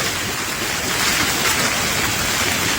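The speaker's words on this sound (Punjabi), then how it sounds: "ਬਹੁਤ ਭਾਰੀ ਮੀਂਹ ਤੇ ਗੜੇਬਾਰੀ ਹੋਈ ਆ ਆਪਣੇ ਏਰੀਆ ਦੇ ਵਿੱਚ" Steady, dense rain with hail hisses loudly and evenly throughout in Talwandi Bhai, Ferozepur district, Punjab, a continuous downpour with no talking.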